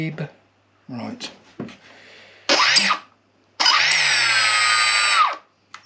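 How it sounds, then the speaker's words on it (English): Electric motor of an RC Depron warbird spun up on a servo tester, giving two sustained high whines, a short one then a longer steady run, between bursts of talk and handling noise. "Motor's going the right way, but the brake's on it."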